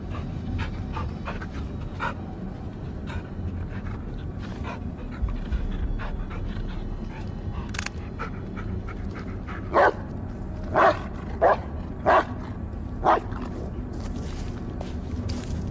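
Dog in the horror game Blair Witch panting steadily for a long stretch, then giving a run of five sharp close barks toward the end over a dim ambient background.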